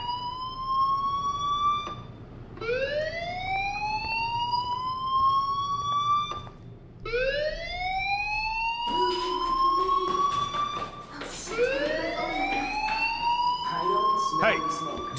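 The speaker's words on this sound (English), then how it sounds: "Hey, do you hear that fire alarm?" A school fire alarm wails in the PS4 game Life is Strange Episode 1, with loud repeated rising siren sweeps. Other tones, clatter and a voice join them later.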